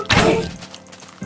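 A skeleton is struck in the video game Minecraft, a single loud thunk with a short crunchy tail, followed by a quieter stretch.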